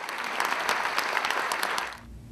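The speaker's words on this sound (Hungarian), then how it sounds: "A közönség tapsal fejezte ki együttértését." An indoor audience at a literary evening claps together, producing dense, even applause that stops abruptly after about two seconds.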